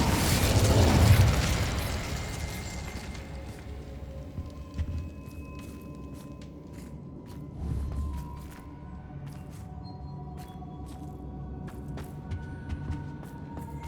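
An Incendio fire spell cast in Hogwarts Legacy erupts as a loud fiery burst in the opening second, then trails into a low crackling rumble with scattered faint pops.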